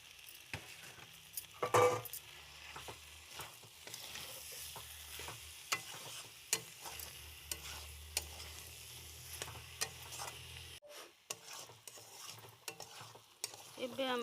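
Manja fish and tomato get stirred in a hot pan, with a steady soft sizzle and repeated scraping taps of the spoon against the pan, close and fairly quiet with no talking.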